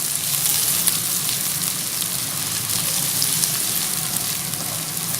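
Ginger garlic paste for fish karahi frying in a pan gives a dense, even sizzle, loud and constant throughout with no talking.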